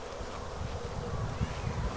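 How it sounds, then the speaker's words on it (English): A steady, low hum of many bees buzzing inside a hive box fitted with wax foundation and drawn comb, a continuous drone at moderate level with no voices. "there's bees in the box now"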